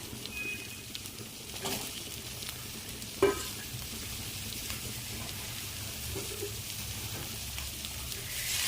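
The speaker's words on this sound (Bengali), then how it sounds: "সাইডে রাখা সয়াবিনগুলো এবার দিয়ে দেবো।" Soybean chunks frying with spices in a pan, a continuous soft sizzle at moderate distance with a few faint clicks of a utensil against the pan, no talking.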